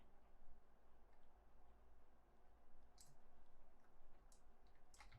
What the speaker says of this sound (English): Just left clicking there.